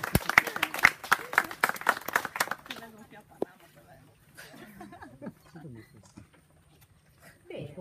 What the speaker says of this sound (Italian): Un applauso anche ai testimoni.